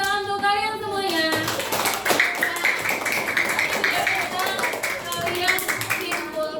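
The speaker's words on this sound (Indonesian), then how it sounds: "beri tepuk tangan untuk kalian semuanya" A school class applauds itself in a classroom, a steady wash of many hands clapping that follows a brief tonal sound at the start, continuing evenly throughout.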